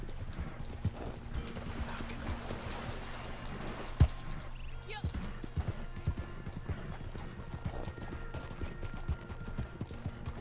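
Horse hooves clip-clop at a walking pace in the Red Dead video game, a faint, steady rhythmic clatter with occasional louder knocks over a low background.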